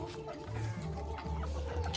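Chickens in a large coop of about eight by four feet give low, repeated clucks near at hand over a steady background hum, with no talk.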